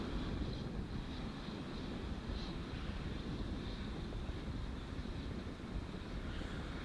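Wind rushes steadily across a microphone at a rocket launch pad, a constant broad rumbling hiss with no clear breaks.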